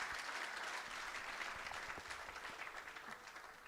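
An audience at a temple's 50th anniversary celebration gives a steady, fairly quiet round of applause that lasts throughout.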